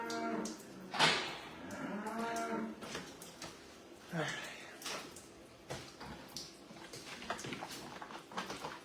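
Dairy cows in a barn low with deep, drawn-out moos, one loud call near the start and another midway, over a busy background of barn clatter and dripping sounds.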